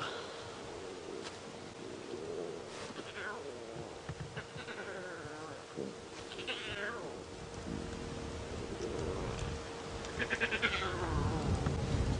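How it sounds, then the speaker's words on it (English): Lion cubs in a pile feeding, mewing and bleating in high, repeated cries at close range, with low rumbling and occasional background talk on a live safari drive. "There's just a pile of little lions trying to feed."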